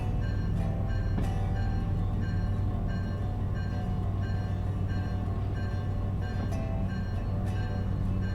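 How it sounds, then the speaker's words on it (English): A train rolls steadily in Derail Valley, a constant low mechanical drone and rumble with occasional clanks and rail knocks, loud and close throughout. "The train noise must be drowning it out,"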